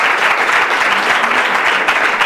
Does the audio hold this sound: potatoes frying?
no